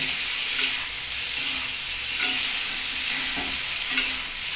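A spice mixture with sugar fries in a pan with a loud, continuous sizzle, while stirring adds faint rhythmic scraping that swells every second or so.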